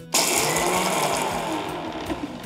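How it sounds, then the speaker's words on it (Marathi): A mixer grinder grinds dal, a green chili and a garlic clove to powder. Its motor starts suddenly and runs loud and continuous with a gritty, rattling whir. "आणि हे मिक्सरमध्ये सगळ्यात आधी याची पूड करून घेऊया."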